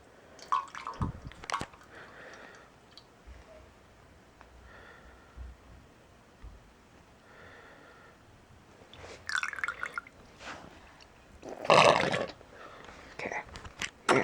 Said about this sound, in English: Well, let me drain the water out first.